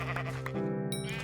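A sheep in the Minecraft video game bleats in one sustained, wavering call, close and clear with no talk over it.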